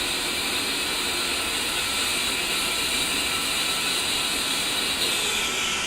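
Twin turbofan engines of an A-10C in DCS World run at steady idle, a continuous broadband roar with a high whine, constant and unbroken, with no speech over it.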